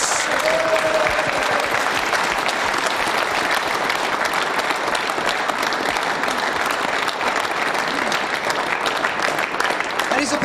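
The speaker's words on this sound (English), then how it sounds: "please a big round of applause for Carl" An audience at a snooker semi-final applauds Carl Morris, the 1998 champion, with sustained, dense clapping that carries steadily and loudly from start to finish.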